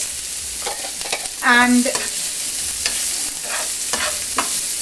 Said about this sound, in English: So I'm just going to mix everything together,